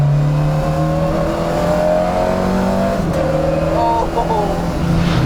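A Ford Escort RS2000 MK2 with its original Pinto engine of about 160 hp and a dog-engagement gearbox accelerates hard, its loud, steady engine roar heard close from inside the car.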